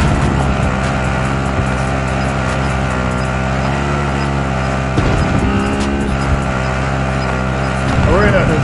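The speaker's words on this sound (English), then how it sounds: "We're in a chopper." A helicopter in a video game throbs with a steady, loud rotor and engine drone that continues without a break, with a voice talking over it.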